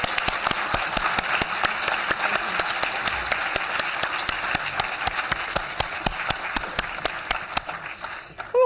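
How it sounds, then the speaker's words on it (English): Sustained applause from an awards-event audience honoring awardees, dense steady clapping with sharper individual claps, holding for several seconds before a final louder burst. "let's give a big round of applause for these awardees"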